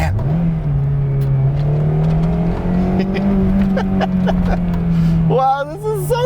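A 2008 Honda S2000 CR roadster engine pulls under acceleration on the road, a steady loud drone rising slowly in pitch for several seconds before easing off, with a voice speaking over the last moment.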